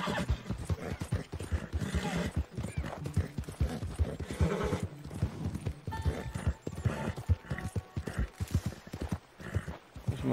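Horse hooves clip-clop in a steady walking rhythm in the Red Dead Redemption 2 video game, joined by an occasional whinny, fairly faint and without talk.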